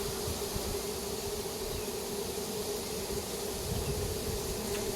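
Swarm of honeybees settling into a new hive, a dense continuous buzzing hum that stays steady and close throughout.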